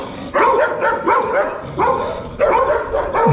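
Several dogs bark repeatedly in rural countryside near Apiacá, Espírito Santo, Brazil, loud overlapping yaps and barks coming in clustered bursts close by.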